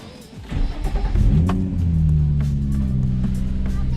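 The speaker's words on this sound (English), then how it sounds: "we're gonna turn on the car." A Nissan 350Z engine cranks and catches, then settles into a steady low idle hum, close by with no talking.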